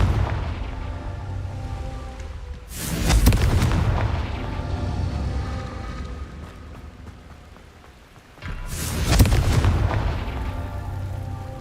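Two heavy booming blasts from a Confringo explosion spell in a video game, each a broad roaring burst that swells and fades over a couple of seconds, separated by a quieter rumbling stretch.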